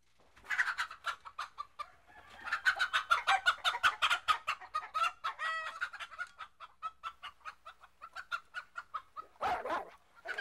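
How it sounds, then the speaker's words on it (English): Several farmyard chickens cluck in quick repeated bursts, joined by a rooster's crow partway through, lively and fairly close, with no voices over them. "Now, get away from them chickens."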